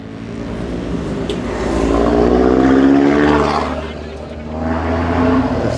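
Heavy machinery, an excavator among it, levels red soil in front of a mosque; a loud, steady diesel engine drone swells and eases, with faint voices in the background.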